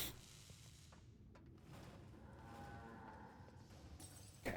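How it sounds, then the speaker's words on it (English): Cow mooing in the Quantum Conundrum video game, a single long low moo heard fairly faintly and alone, with no talk over it. "Cow."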